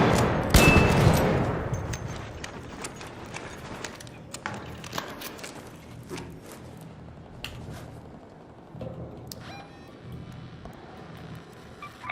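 Gunfire in the video game Arc Raiders: a loud opening burst, then scattered cracks and shots of varying distance over a low background din.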